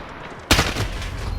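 One loud, close shot from an MK 14 EBR rifle in Call of Duty Modern Warfare cracks suddenly after a quiet moment, followed by a sustained noisy tail of echo and continued game ambience.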